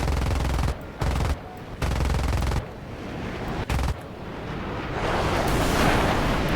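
Bursts of aircraft cannon fire from an F-5C jet in War Thunder, several loud rapid rattling volleys broken by short gaps, followed by a steady roaring rush of engine and wind.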